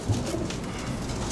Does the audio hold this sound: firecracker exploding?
no